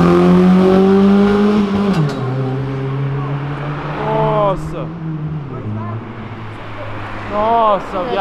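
A Nissan Silvia S15 revs and accelerates along a city avenue, its engine note climbing then dropping through gear changes, loud and near, with people talking nearby.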